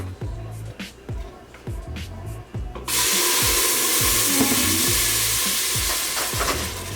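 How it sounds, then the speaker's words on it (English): Mole sauce hits a hot pan at about three seconds and bursts into a loud, steady broadband sizzle that holds to the end, after a stretch of quieter kitchen sounds and light clatter. "now I'm just gonna throw my sauce in our pan over here"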